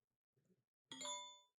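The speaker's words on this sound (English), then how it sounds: "My phone went off." A phone notification chimes once, a clear bright ding that rings out and fades over about half a second, preceded by a faint soft rustle in an otherwise quiet room.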